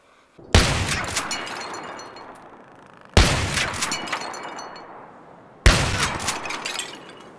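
Frag rounds from a shotgun in Battlefield 3 burst against an Easter egg target, three loud sharp blasts evenly spaced a few seconds apart, each trailing off in a crackling decay.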